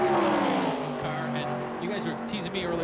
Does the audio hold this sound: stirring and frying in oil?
no